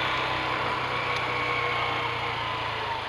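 Beker B2 CR3 125cc motorcycle engine running steadily close by, a continuous buzzing drone with a low throbbing hum that holds even throughout.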